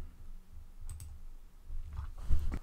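A few scattered clicks on a computer keyboard while text is typed in Inkscape, sparse at first, then a quicker cluster of louder keystrokes near the end.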